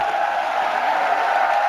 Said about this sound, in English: The crowd love that.